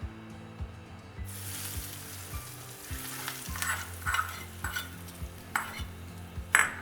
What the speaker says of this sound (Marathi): यात आता फोडणी घालून घेऊ